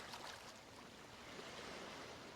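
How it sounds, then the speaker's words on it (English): Soft waves wash in and out along a mangrove shore, a faint, steady hiss of surf with a broad, even wash and no distinct breaks. "Soft waves, ebbing and flowing."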